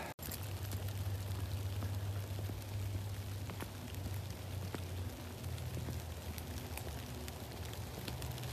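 Light rain falling outdoors on a cooling evening makes a steady, soft hiss with scattered patters, continuous from start to finish, fairly faint and without talk.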